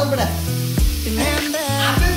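Lentils go into a hot kadai and sizzle sharply and close, a bright hiss running under a voice that talks over it for the whole moment.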